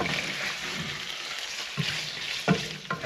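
A steak for teriyaki stir fry sizzles in a pan on the stove, a steady hissing fry broken by a few soft clinks and stirring knocks near the end.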